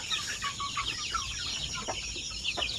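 Farm chickens, including young roosters, cluck and chatter in short repeated bursts, several birds close by over a low steady background.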